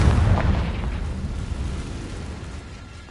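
A fiery Confringo spell blast goes off in Hogwarts Legacy, a heavy rumbling boom at the start that decays into a long roaring tail, close and loud with no voices.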